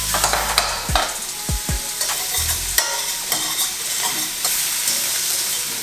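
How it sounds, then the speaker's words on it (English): Baby octopus sautéing in a pan gives a steady, close sizzle and hiss, with stirring scrapes and a few low clunks over about six seconds and no talk. "Oh yeah, you hear it sizzling up already."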